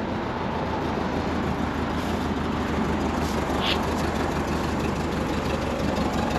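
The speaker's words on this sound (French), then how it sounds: "donc un bon petit ralenti" A 1978 Volkswagen Beetle Cabriolet's air-cooled engine idles in neutral, a steady low rumble that holds unbroken and fairly loud throughout, with no talk over it.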